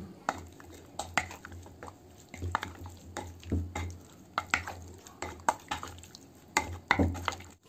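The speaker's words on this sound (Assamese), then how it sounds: "এতিয়া মই গুটেইখিনিকে ধুনিয়া কৰি মিলাই লম" A spoon scrapes and clinks against a pan while masala chicken is stirred and mixed, irregular metallic knocks and scraping strokes every half second or so, close and clear with no talk over it.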